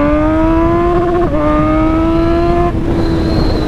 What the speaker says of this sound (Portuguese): Esse é o barulho de ponteira esportiva.